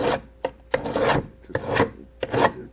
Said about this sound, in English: And I'd deburr the whole thing.